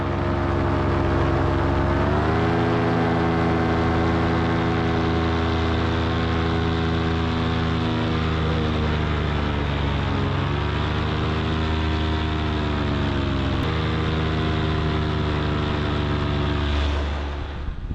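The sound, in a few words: powered paraglider engine in flight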